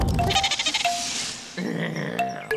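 A goat bleats in a wavering, quavering call, then gives a second shorter bleat, close and clear.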